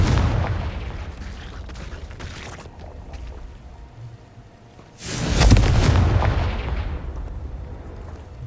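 A Confringo fire spell from Hogwarts Legacy bursts with a loud explosive blast that swells at mid-clip and rumbles out over a couple of seconds, after a quieter stretch of rattling, crackling game action.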